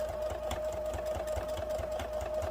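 A sewing machine runs steadily, stitching fabric for a handmade fall gnome with a top hat, its needle tapping in a quick even rhythm over a constant motor hum, close and fairly quiet.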